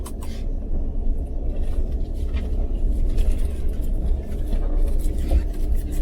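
Cars rolling along a rough, potholed trail crowded with hikers, heard as a continuous low, heavy rumble of engines and tires up close, steady throughout with no talk.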